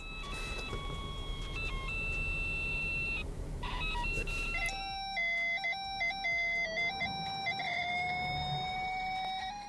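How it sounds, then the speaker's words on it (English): Real police radar system audio plays as steady, squelchy electronic tones that hold and step between pitches over a hissy background, shifting to a cleaner, sparser pattern partway through, fairly faint and with no talking. "I'm going to play some audio from a real radar system."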